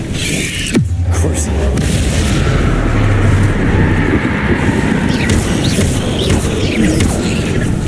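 A Confringo fire blast spell in Hogwarts Legacy, heard as a sharp, loud boom followed by a sustained rumbling roar of flames, with a voice speaking over it.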